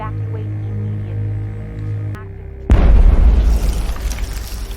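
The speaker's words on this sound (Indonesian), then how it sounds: "Ledakan besar kembali terjadi di luar gedung." A large explosion in a film scene of a monster invasion destroying a city bursts in suddenly after a steady low hum, then rumbles on loud and sustained.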